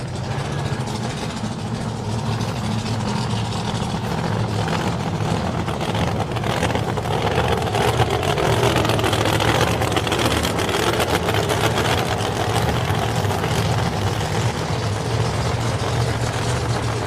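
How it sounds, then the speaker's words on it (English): Blown-engine Mustang nostalgia drag race cars make a steady, loud, broadband engine roar throughout, with a slight swell midway and no distinct speech. "Nice blown engines. Half-track burnout there for Dan Hodkins."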